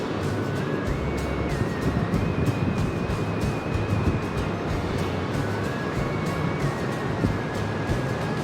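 Ocean waves wash onto a beach on the Washington coast near La Push, a steady, loud roar of surf with wind, continuous throughout with no pauses.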